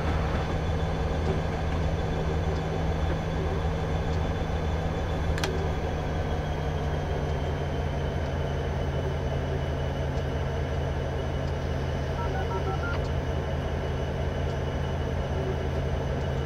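Norfolk Southern locomotives, with pushers at the rear, in Train Simulator 2015 on Horseshoe Curve give off a steady, continuous low diesel rumble and rail drone, with occasional faint metallic clicks over the constant hum.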